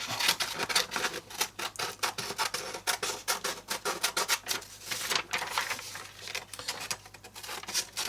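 Scissors snipping through paper while cutting out an art tag, a close series of quick, irregular crisp cuts and rustles, quiet and uneven in rhythm.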